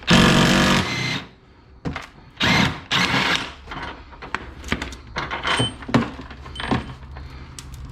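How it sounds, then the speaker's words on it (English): A power tool removing a bolt from the front of a Porsche Cayman during a lowering job, loud bursts of whirring and rattling that stop and start, followed by clicks and metallic handling noises. "I'm gonna remove this bolt."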